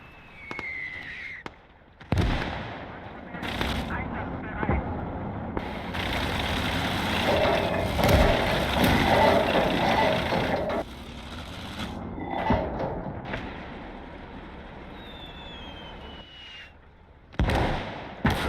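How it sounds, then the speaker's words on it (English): Tank guns firing rounds at an Su-76 in the Call to Arms: Gates of Hell Eastern Front battle game, sharp booming shots at irregular intervals over a rumbling engine and battlefield din, without any voices. "we're firing rounds at the Su-76"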